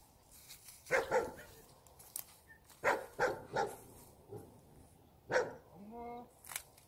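A dog barks in a series of sharp, fairly close barks in clusters indoors before a first bath, followed by a brief whine, with a voice calling between them.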